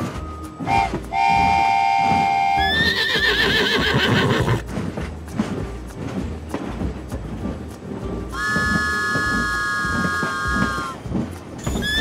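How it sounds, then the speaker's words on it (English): Horses neigh and whinny loudly in a toy diorama scene, in several long shrill calls with a clip-clop rhythm between them. "Our horses are here too."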